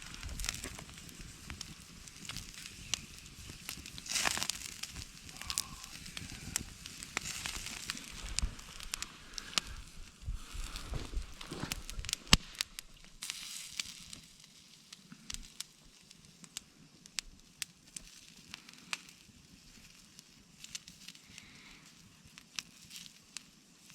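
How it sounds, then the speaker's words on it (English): Steady crackling and sizzling from steaks on a campfire, a continuous fizzing hiss with scattered pops, fairly close and without voices. "Can you hear it sizzle?"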